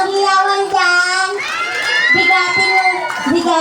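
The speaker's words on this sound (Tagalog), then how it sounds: "wala po ba masigaw kung palakpakan na may kasamang hiyawan dyan?" A crowd at a fiesta show cheers and shouts loudly for a concert queen, with high children's voices mixed into the continuous roar; any clapping is buried beneath the yelling.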